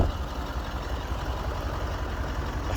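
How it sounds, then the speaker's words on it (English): A Range Rover Sport 3.6 TDV8 HSE diesel V8 idles steadily nearby, a continuous low rumble with no voices over it. "you can hear that lovely engine."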